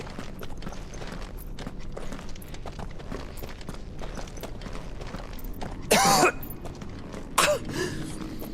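A Final Fantasy XVI character, Clive, coughs in two sharp, fairly loud bursts near the end, following a stretch of quiet footsteps and low ambient rumble.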